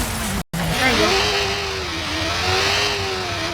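Car engine in the Watch Dogs video game revs steadily with a rising and falling mid-pitched drone, broken by a brief cut near the start, while game noise and occasional voices sit underneath.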